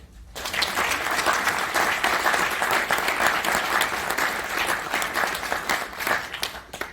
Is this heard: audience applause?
yes